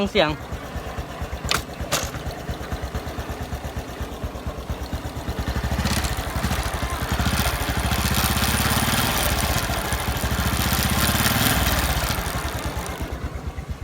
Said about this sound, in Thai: ขับไปสักพักโซ่หน้ามันดังนะครับ